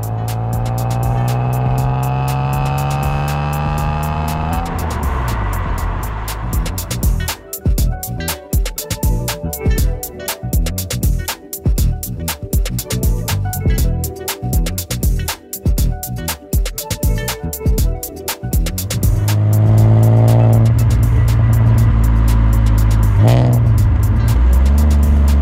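An Alfa Romeo 156 GTA with its 3.2-litre Busso V6 drives past, its engine droning loud and steady, then falling to a rougher, choppier note through the middle before swelling back to a strong, sustained roar.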